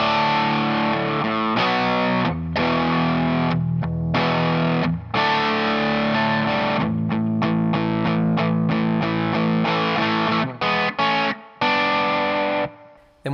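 Distorted electric guitar plays the pre-chorus of a song, chugging chords broken by short rhythmic stops, loud and alone with no talking.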